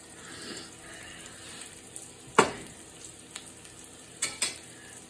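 Pork chops sizzle in a frying pan, a soft steady crackle with a few louder spits and pops of juice near the end.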